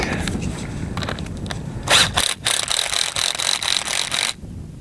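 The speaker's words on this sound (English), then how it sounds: "Now that we've got her tight, here, we'll just snug her down with the wrench." A wrench snugging down a cable clamp on hopyard cable, a run of quick metallic ratcheting clicks in bursts, close and fairly loud, stopping abruptly near the end.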